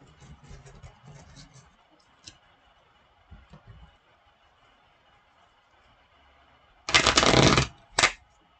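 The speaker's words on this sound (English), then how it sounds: "Wow, that was a bad shuffle there." Playing cards being shuffled during a tabletop game session: a soft ticking riffle early on, then a loud, close burst of riffling near the end followed by a short second flurry, with quiet pauses between.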